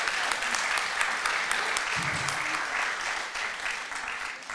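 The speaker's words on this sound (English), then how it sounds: "give one more round of applause to our amazing sponsors back here" An industry forum crowd claps for the event's sponsors, sustained applause from many hands at moderate distance, tapering slightly toward the end.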